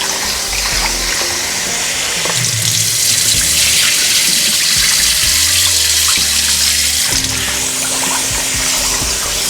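Water runs steadily from a tap into a sink, splashing as catfish is rinsed under the stream, with occasional clunks and shifts in the flow.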